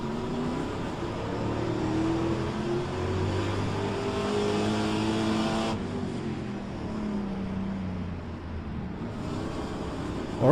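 Pontiac Trans-Am race car engine in the rFactor 2 racing game, underpowered with flat power curves and slow shifts, droning steadily through a rolling start with a continuous loud whine that shifts pitch partway through as it accelerates.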